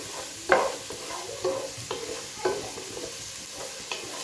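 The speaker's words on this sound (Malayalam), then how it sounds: "ഞാൻ ആദ്യം വെള്ളിയുള്ളി ഇട്ട് കൊടുക്കാൻ പോവാണ് ഇട്ട് കൊടുത്തിട്ടുണ്ട് ഇത് നമുക്കിനി ഒന്ന് ഇളക്കാം" Garlic frying in a pan while being stirred for tomato rice, a soft sizzle punctuated by roughly evenly spaced spatula scrapes, close and alone without speech.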